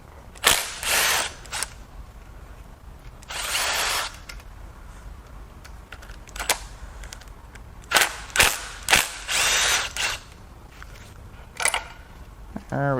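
Bolts and a chain tensioner come off a BMW N63 4.4L twin-turbo V8 during teardown, with repeated short bursts of a power tool or impact driver, sharp close clicks and clanks between them, and quiet gaps in between.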